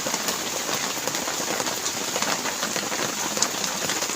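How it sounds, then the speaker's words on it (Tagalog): Steady rain falls outside as a dense, even hiss with faint scattered drops throughout; no one speaks. "Agad itong maulan."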